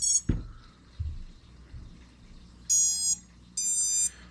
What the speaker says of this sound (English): all motors are beeping, that's good